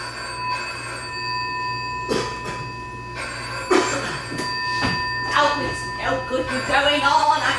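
A telephone rings on a theatre stage, with bursts of bright, repeating electronic bell tones through the clip, while an actor talks and the audience makes small noises.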